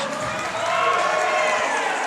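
A modest crowd at a college wrestling match involving a Princeton wrestler cheers steadily, a continuous sustained roar of voices mixed with shouts throughout.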